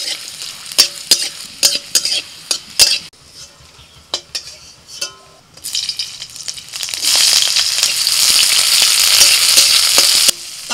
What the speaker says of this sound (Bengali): তো তেলের মধ্যে ভেজে নেব